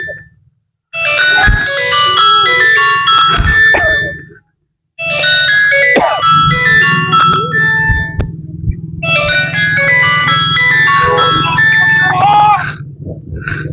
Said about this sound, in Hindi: फोन वजदा पिया है।